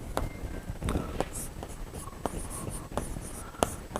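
A pen scratches out an accounting entry in Hindi-medium bookkeeping class, with steady close strokes and taps on paper, and a voice murmurs quietly underneath.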